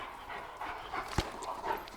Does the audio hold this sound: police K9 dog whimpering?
yes